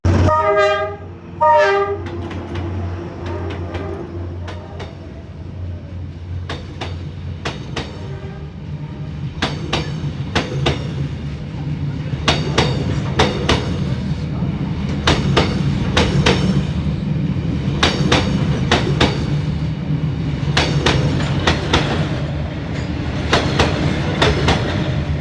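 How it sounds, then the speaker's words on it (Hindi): A train on Hanoi's Train Street sounds its horn in several loud blasts, then rumbles past close by with a continuous heavy roll and rhythmic clattering wheels. "the train."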